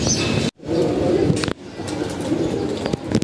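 Flock of domestic pigeons cooing and rustling, some taking off, with a steady murmuring coo and two abrupt cuts in the sound.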